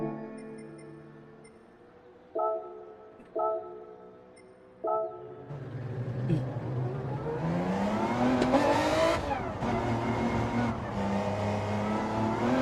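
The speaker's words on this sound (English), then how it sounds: "I'm going to jump in the car and put a couple of laps in" Two engine-like tones pulse briefly, then a race car in a racing video game accelerates and revs through its gears, growing loud and steady, with rising engine pitch and road noise as it sets off on laps.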